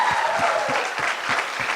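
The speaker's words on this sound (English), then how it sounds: "Give them a big round of applause." An audience at a group dance and mime event claps steadily in a brief burst of dense, even applause.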